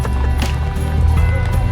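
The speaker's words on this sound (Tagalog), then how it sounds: "Papatakbuhin daw yung kabayo." A horse runs on a ride through the City of Pines, its hooves clopping in quick rhythm under loud ambient rumble, while people talk nearby.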